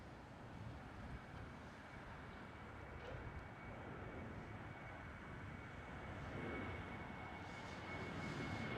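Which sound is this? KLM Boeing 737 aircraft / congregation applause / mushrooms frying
KLM Boeing 737 aircraft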